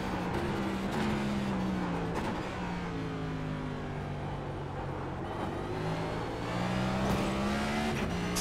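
Several NASCAR race car engines roar together in the iRacing video game, overlapping whining notes rising and falling as cars overtake one another, steady and loud throughout without any voices.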